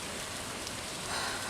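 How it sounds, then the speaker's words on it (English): Rain falling in the video game Stardew Valley, a soft, steady hiss of raindrops with no break, faint and even throughout. "it's raining today"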